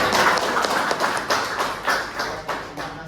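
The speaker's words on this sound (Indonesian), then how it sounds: "Ya, tepuk tangan." Lecture class clapping hands at the end of a university session, a short run of uneven, moderately close claps.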